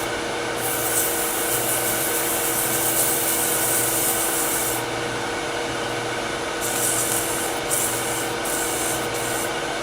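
Steady sanding of a miniature turned holly vessel with 180-grit paper on a lathe, a continuous hissing rub with a hum underneath, close and fairly loud, pausing briefly before resuming in short bursts.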